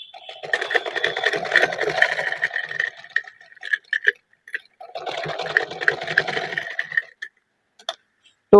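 Household sewing machine running again after its mechanism was loosened to fix a turning wheel that would not drive the needle: two steady, close mechanical whirring runs of a few seconds each with a pause between, no talk.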